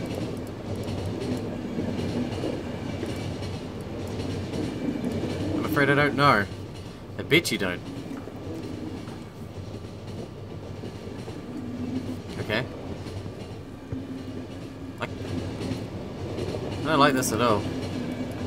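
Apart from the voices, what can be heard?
moving train clickety-clack in video game The Final Station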